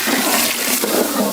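Water pours steadily in a continuous, close splashing rush into a cooking pot of village-style mutton biryani with tomatoes, lasting the whole moment without a break.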